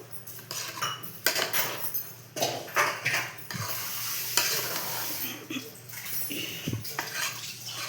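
Rice frying with spice masala for menthe bath sizzles softly while a spoon scrapes and clanks against the pan in uneven bursts of stirring, close up and without speech.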